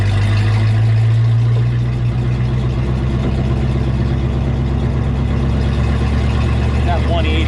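A 1932 Ford Coupe engine idling slightly high, a steady loud low rumble close by with people talking over it.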